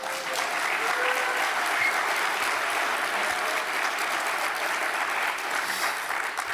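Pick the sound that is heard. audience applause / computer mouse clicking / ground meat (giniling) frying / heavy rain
audience applause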